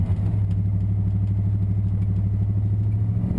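A truck fitted with MagnaFlow mufflers idles with a deep, steady exhaust rumble and a fast, even pulsing throb, close and loud throughout, with no talking.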